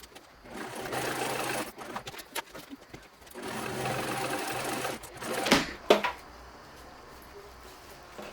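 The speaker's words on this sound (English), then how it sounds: "I'm going to go ahead and sew this on using my seam allowance" A sewing machine stitches a seam on a concealed-carry purse, running in several steady bursts with brief stops between them and a few louder clicks near the end of the run.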